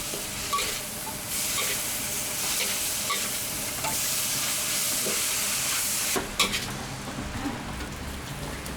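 Nasi goreng ayam fries in a Bali warung kitchen with a dense steady sizzle and hiss like rain, steam and a few sharp clanks of a utensil near the end.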